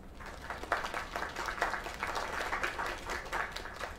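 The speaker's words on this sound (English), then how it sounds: "Another round of applause." Applause in the video game Mail Delivery Simulator, a quiet stretch of group clapping with a slightly pulsing rhythm, faint and continuous for a few seconds.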